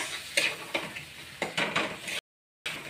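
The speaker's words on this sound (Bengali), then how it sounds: "মশলাটাকে একটু ভালো করে কষিয়ে নেব।" Spice masala stirred and fried in a pan: rhythmic scraping strokes of the spoon over a soft steady sizzle, close and moderately loud, with a brief silent dropout near the end.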